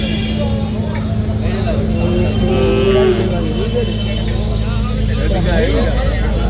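A cow moos over a busy crowd of voices and general livestock market noise, with people talking throughout.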